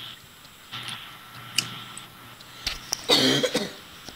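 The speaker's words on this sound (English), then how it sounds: "keep coughing" A person coughs during a Minecraft gaming session: a few short, fairly quiet coughs and a throat-clearing rasp, mixed with faint clicks and ticks.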